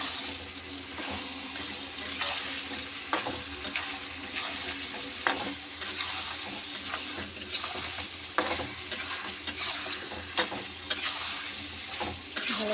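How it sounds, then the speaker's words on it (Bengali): Chicken meat and ground cumin, cardamom, ginger, garlic and chili paste sizzle and fry in a pan, a steady close hiss with repeated scraping and stirring clacks. "ভালো করে মাংসটা আমি কষে নেব।"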